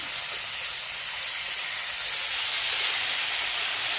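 Eggplant frying with a small piece of dried fish in a pan gives off a steady, close hiss of sizzling oil that holds evenly without breaks, with no voices.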